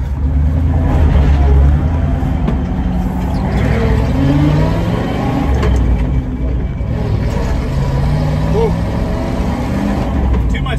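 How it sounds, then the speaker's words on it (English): A 1967 Dodge W200 Power Wagon truck with original paint rumbles along a road, its steady low engine drone continuing beneath people talking. "I think we better just drive it on the road, get it over with."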